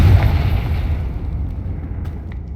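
A Bombarda or Confringo spell blast in Hogwarts Legacy, one loud booming explosion that dies away into a rumbling tail.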